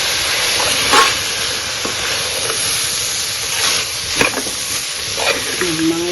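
Chicken curry base of vegetables, tomato and roasted spice mix is stirred in a pan, with a continuous hissing sizzle and a few scraping strokes of the spoon.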